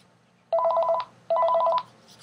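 A telephone rings in two short electronic bursts of trilling tone separated by a brief gap, clear and fairly close against a quiet background hum.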